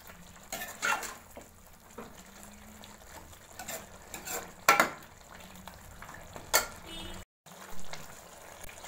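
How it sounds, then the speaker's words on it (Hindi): Green chicken frying in a karahi, a soft sizzle broken by irregular stirring scrapes and clanks of a spoon against the pan, fairly close, with a brief silent gap near the end. "तकरीबन 5 मिनट तक हम इसको अच्छी तरह भूनेंगे।"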